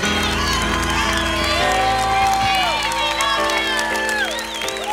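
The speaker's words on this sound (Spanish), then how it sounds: "Denle un aplauso a Jackie, please." A church congregation claps and cheers for Jackie during a sermon by Apostle Guillermo Maldonado, with whoops and shouting voices over a sustained organ or keyboard chord, lively and full throughout.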